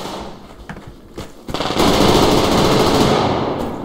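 Machine gun fire in the video game Survarium: a few sharp isolated shots lead into a loud, sustained automatic burst that rattles on without a break, close up and dominant.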